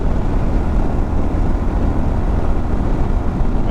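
A Kawasaki KLR650 motorcycle engine held near wide open throttle at about 70 mph, a steady, loud, continuous drone mixed with road and wind roar throughout, with no talk.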